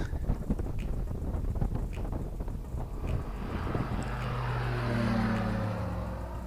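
A Sling TSi light aircraft takes off, its propeller engine droning steadily with a rising, strengthening hum against heavy wind buffeting on the microphone throughout.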